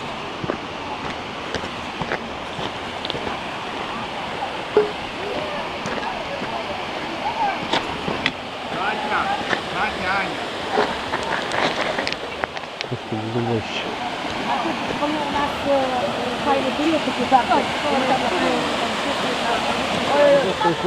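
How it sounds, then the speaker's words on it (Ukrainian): Waterfalls at Synevyr, a set of three falls with two smaller and one larger, give a steady broadband rush of falling water mixed with wind buffeting the microphone, with voices speaking over the roar. "таких три водоспади, два менших, один більший"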